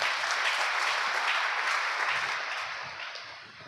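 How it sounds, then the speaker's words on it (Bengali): Loud, sustained applause from a crowd at a Christian prayer meeting, dense clapping that carries steadily and fades slightly toward the end. "জোরে হাততালি, জোরে।"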